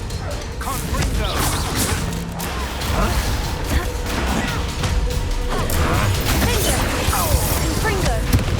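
Confringo blasting spell exploding in the video game Hogwarts Legacy, a loud, continuous barrage of crashes and mechanical clatter amid combat, with voices shouting over it.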